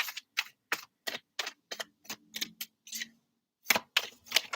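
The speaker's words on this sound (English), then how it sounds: "I'm going to keep shuffling." Tarot cards are shuffled by hand in quick, crisp bursts of papery riffling and tapping, close and fairly soft, in an irregular rhythm with short pauses and no talking.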